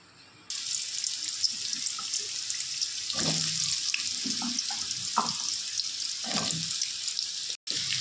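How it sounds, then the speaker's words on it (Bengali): Potatoes frying in oil after fish has been fried in it, a steady close sizzle beginning abruptly with scattered clattering and stirring, heard alone without voices. "এবার এই তেলের মধ্যেই আমি দিয়ে দেবো আলুগুলো ভাজতে।"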